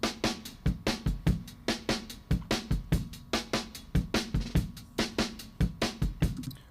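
Drums play a steady rock beat with tight, compressed kick and snare and splashy cymbals, dense and punchy throughout, no talking, run through a Heritage Audio tube compressor on the drum bus.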